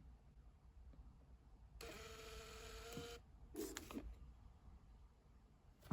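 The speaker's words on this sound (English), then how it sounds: "It's just a little thermal printer." A small Niimbot D110 thermal label printer whirs through a label in a short mechanical burst, then gives a second briefer buzz, faint against a quiet room.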